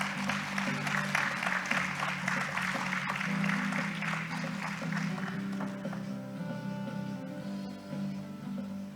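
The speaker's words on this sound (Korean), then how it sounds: "여러분 큰 박수로 맞이해 주시기 바랍니다" Audience applause welcoming a keynote speaker at the opening ceremony of the 2022 InChina Forum international conference in Incheon: dense, steady clapping fills the whole stretch over a low sustained tonal background, fading slightly toward the end.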